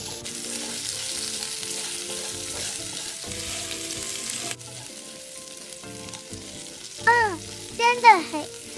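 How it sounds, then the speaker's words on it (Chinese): Pork belly stir-fried in a hot wok with rock sugar and a whole head of garlic, a continuous loud sizzle with scraping spatula strokes, then sharper clattering stirs toward the end; no talk. "然后一起拌炒，拌炒至冰糖溶解"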